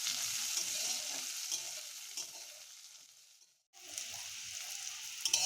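Chopped onions sizzle with fried potatoes in a pan for a homestyle cabbage curry, a close, continuous crackling hiss that fades briefly to near silence before resuming at full strength, with soft stirring scrapes.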